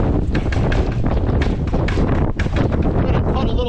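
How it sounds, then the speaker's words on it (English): Strong wind buffets the microphone in continuous gusty rumbles, loud and close throughout. "it's really windy up here"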